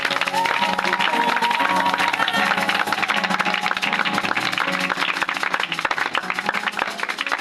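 A church congregation applauds in a dense, continuous patter of clapping, mixed with voices and music throughout.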